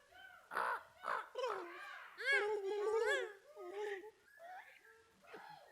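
A live concert audience imitates bird calls, with several people cawing and squawking in overlapping bursts like crows, fairly loud and close, a voice or two mixed in.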